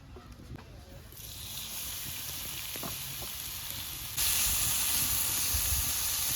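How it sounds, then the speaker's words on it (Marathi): Dried shrimp (karandi) sizzling in a pan with turmeric and salt while being stir-fried, a steady close hiss that swells louder partway through. "तर इथे आपण करंदी ती थोडी परतून घेऊया."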